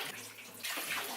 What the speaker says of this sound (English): The water needs to be cold, so I'm opening the cold water.